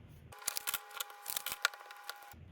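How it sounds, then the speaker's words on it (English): A deck of oracle cards is shuffled in fast motion, producing quick, quiet fluttering and rustling bursts over a steady faint tone, with short silences at either end. "I'm gonna fast forward the shuffling just because it takes so long"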